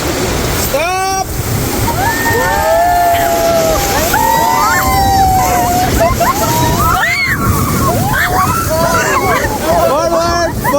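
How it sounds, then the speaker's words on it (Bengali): Whitewater rafting on an Albanian river: loud rushing, crashing waves surround the raft continuously while several people shout and whoop excitedly over the roar. "এখন আমরা একটা বড়সড় ঢেউয়ের মধ্যে দিয়ে যাব।"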